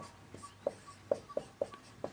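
Chalk or a marker writes on a board during a geography lesson, producing a series of short, quiet taps and strokes at an uneven rhythm, heard alone and close.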